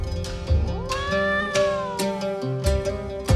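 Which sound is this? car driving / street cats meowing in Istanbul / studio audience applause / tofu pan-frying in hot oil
street cats meowing in Istanbul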